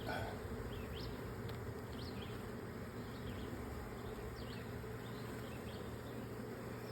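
Honey bees from a washed swarm buzzing continuously around open brood frames during a hive inspection, a dense steady drone with individual bees flying close past, and no voices.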